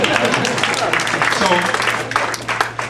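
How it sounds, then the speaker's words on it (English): Audience at a grassroots organizing forum applauding themselves, a broad patter of clapping with a voice talking over it. "you can give yourselves an applause"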